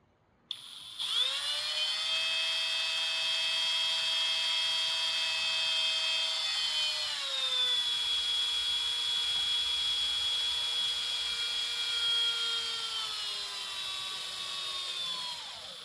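A power drill running with old, worn drill bits, some with no point left, during a K24 engine thermostat housing modification, gives a steady high whine that dips slightly in pitch midway and holds for about fifteen seconds, close and loud.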